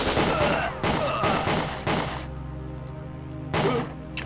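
Gunfire in the video game WinBack: Covert Operations: a rapid burst of loud, close shots in the first two seconds, then a pause and a single further blast near the end.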